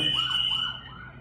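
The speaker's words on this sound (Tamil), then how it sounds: "ஒரு ஆம்புலன்ஸ் ஓடிட்டு இருக்கு" An ambulance siren wails in a rising and falling pattern, a steady high tone riding over the sweeping whoop, fairly close and fading slightly toward the end of the brief moment.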